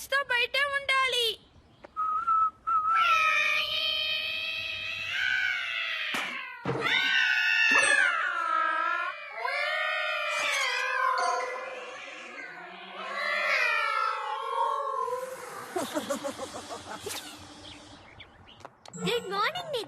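Cartoon cats meow and caterwaul outside in a series of drawn-out, sliding cries, some high and whistle-like, fairly close and clear, with short pauses between calls.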